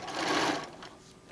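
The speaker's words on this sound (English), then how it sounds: "we're going to line this up, and we're going to stitch straight on down." Sewing machine running a straight stitch line through quilt fabric, a steady close whirring hum that swells then eases off over about a second.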